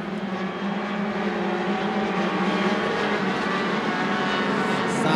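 Yamaha YZ85 motocross bikes race in a qualifying heat on a dirt track, one restarting after stalling in a corner; a steady, somewhat distant buzzing drone of small two-stroke engines continues throughout.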